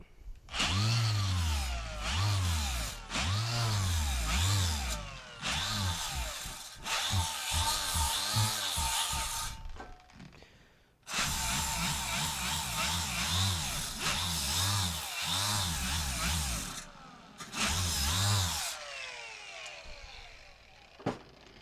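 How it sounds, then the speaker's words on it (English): Power tools run in repeated bursts of a second or two, each rising and falling in pitch, with loud revving passages broken by short pauses and one longer gap. "Power tools."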